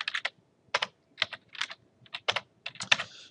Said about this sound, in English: I'll go ahead and just type it out.